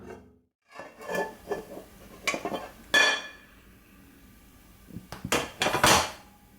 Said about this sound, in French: pour retourner la viande, je viens déposer donc par-dessus une assiette